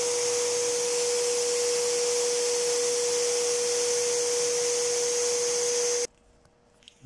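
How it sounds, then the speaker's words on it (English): A vacuum cleaner hoovers through a Hamworthy Dorchester DR-FC 45 water heater during burner servicing, a steady loud whine with a constant tone running for about six seconds before cutting off abruptly. "There I am giving the unit a hoover through."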